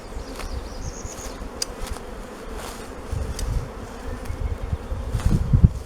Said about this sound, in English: so that the bees can move some grass out of the way